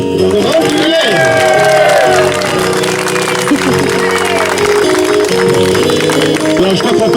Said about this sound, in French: je crois qu'on peut les applaudir encore plus fort parce qu'ils ont beaucoup travaillé